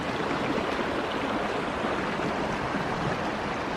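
Fast-flowing stream water rushing steadily, a dense continuous broadband roar close by with no pauses.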